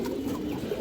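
A pair of old-breed khora-necked pigeons, a male and a female, give a low, soft, continuous cooing that sounds close by, with no voices over it.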